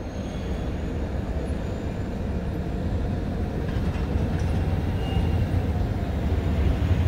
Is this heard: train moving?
yes